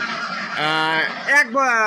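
Ducks kept in confinement for egg laying call out in a series of loud, nasal, honking quacks, one drawn-out call followed by a sharper burst and another long call, close by.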